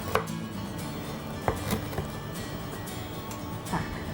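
Galangal sliced thinly with a knife on a cutting board while making Thai chicken galangal soup, a few sparse, crisp knife taps spaced irregularly over a quiet, hissy background.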